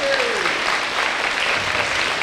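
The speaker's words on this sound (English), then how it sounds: "Sherry, I want to give her a round of applause" Steady, dense applause from an audience at a police department event celebrating a new police dog, a continuous wash of clapping at even loudness throughout.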